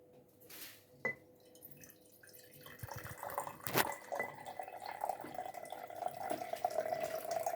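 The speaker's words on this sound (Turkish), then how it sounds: "Sürahideki suyu koyuyorsunuz." Water poured from a jug into a glass jar, heard as faint close dripping that turns into a steady trickling pour, growing slightly louder toward the end, with no talk.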